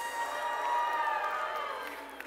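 An audience cheers for the San Francisco 49ers, a steady, loud crowd roar with whoops and shouts that holds for the whole stretch, with no talk over it.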